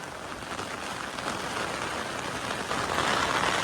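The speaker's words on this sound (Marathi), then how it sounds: "पाऊसच चालू झालाय जोरात" Heavy rain pours steadily on surfaces outdoors, a dense, loud, unbroken hiss that builds slightly toward the end, with no voices.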